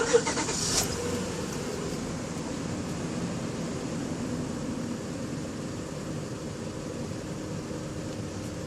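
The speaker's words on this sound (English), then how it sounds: "Start the car up." A 2006 Honda Odyssey engine turns over and settles into a steady idle, a brief burst at the start followed by a continuous low rumble.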